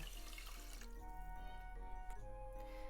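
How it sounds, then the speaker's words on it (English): Water pours into a pot holding two cups of rice for Japanese sweet potato rice, a steady quiet splashing and filling stream that eases off partway through. "It's 2 cups of rice, so let's add 2 cups of water."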